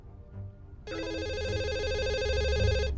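A telephone rings in The Assembly video game, a steady electronic trilling tone that starts abruptly after a short quiet lead-in and continues loudly for a couple of seconds over a low background rumble.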